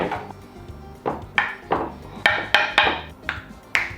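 A knife chops ingredients into small pieces for quesadillas on a cutting board, a series of crisp, close knocks in an uneven rhythm, about a dozen strikes, with no talk.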